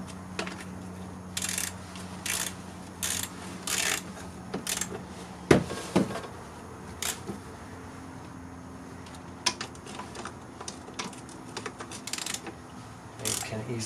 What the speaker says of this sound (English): I don't know why I'm using the long ratchet.